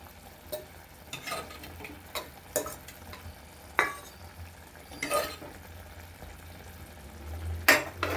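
A prepared mixture is poured into a pan and stirred during Onam festival cooking, producing scattered scraping and clinking of a utensil against the pan with a soft sizzle, close and fairly quiet, with no talking.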